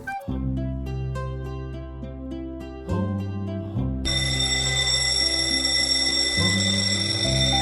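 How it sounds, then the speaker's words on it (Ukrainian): A school bell rings for break, a loud continuous electric ringing that shifts into a brighter, harsher buzz partway through, close and steady with no voices over it. "Дзвінок на перерву придзвонів."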